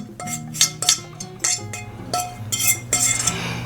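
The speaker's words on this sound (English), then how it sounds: "And we're just gonna give this a nice mix." Mayonnaise being mixed into a butter and cheese mixture in a bowl for garlic parmesan sauce, with repeated clinking strokes of a utensil against the bowl, fairly close and distinct.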